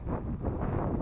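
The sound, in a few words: gusty wind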